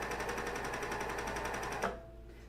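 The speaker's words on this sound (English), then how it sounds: "I did pull the elastic while I was serging it" A serger runs fast and steady while sewing elastic onto underwear, a dense rapid whir that cuts off abruptly near the end and leaves a faint hum.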